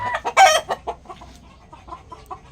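Gamefowl roosters from a game farm clucking and giving a short crow nearby, a loud burst of calls followed by softer scattered clucks, with no voices present.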